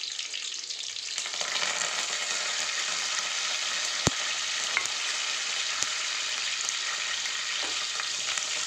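Ginger garlic paste, onion and curry leaves sizzle and fry in hot oil in a close, loud, steady crackle, with a few sharp clicks of a spoon or pan heard on top.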